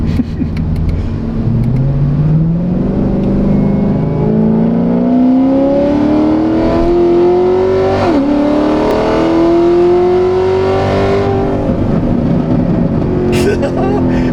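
A loud, modified high-horsepower Corvette ZR1 engine revs up and climbs through the gears, with a brief dip and sharp exhaust pops near the end, steady and close.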